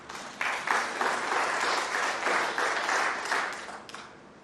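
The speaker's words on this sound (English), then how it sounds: "Someone jumped the gun with the clapping there." Snooker crowd at the 2022 Champion of Champions, Mark Allen versus Joe Perry, breaks into sustained applause, a dense, even patter of many hands in a hall that swells quickly and holds before easing off.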